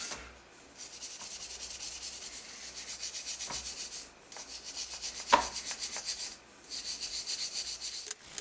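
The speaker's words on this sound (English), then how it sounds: "first we're using good old WD-40 just to soak it a bit, and brass brush always helps." Brass brush scrubbing a metal vice soaked with WD-40, steady rhythmic back-and-forth rasping strokes in several close bursts separated by short pauses, with a sharp metallic tap midway.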